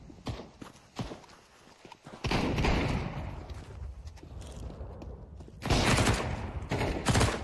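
Rapid gunfire exchange from a Counter-Strike match in a professional esports final, coming in dense, loud bursts that swell around the middle and again near the end over a busy background.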